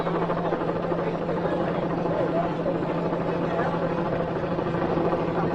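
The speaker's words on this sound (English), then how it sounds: "Look at that helicopter trying to drown the sound." Helicopter circling overhead during an outdoor news conference, a steady loud rotor drone and buzz filling the whole stretch beneath a crowd's voices.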